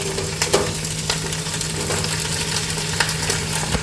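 A bottle gourd leaf laid flat in a pan with about a spoonful of hot oil, sizzling with a loud, steady close frying hiss and a few light crackles, no voices.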